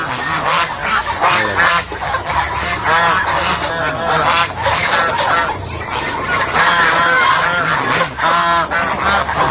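A large flock of domestic geese honks loudly and continuously in a village full of geese, many overlapping calls close by with some chicken clucks mixed in.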